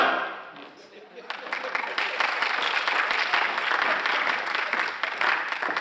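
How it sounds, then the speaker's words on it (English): A theatre audience at a stage musical bursts into sustained, steady applause for a set change, rising after a brief quieter moment and holding loud and dense throughout. "The audience applauds the set change."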